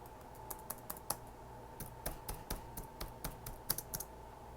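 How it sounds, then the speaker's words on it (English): Someone types on a computer keyboard in quick, uneven bursts of crisp key clicks, close and clear, with no talking. "I type in console."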